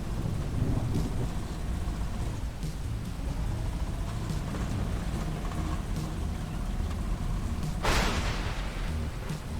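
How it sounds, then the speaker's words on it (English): Steady rain and rumbling thunder in the video game Teardown fill the whole stretch, with a sharp, louder crack of thunder bursting out near the end. "see if any more lightning bolts do strike anywhere"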